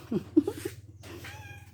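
A cat gives a couple of short meows close by, one early and a longer drawn-out cry near the end, over a low background hum.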